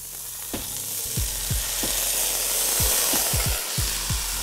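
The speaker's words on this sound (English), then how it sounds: "And we're just gonna cook these, just kind of again, sweat them out, get a nice little translucent, transparent look about the onions" Diced onions and carrots sweat in vegetable oil for a wild duck risotto, giving a dense, steady sizzle with scattered crackles and pops, fairly close and uninterrupted by any voice.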